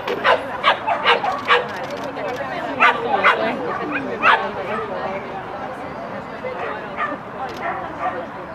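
Several short dog barks and yips ring out in irregular bursts, fairly close, over a steady background of people talking at an agility competition start line.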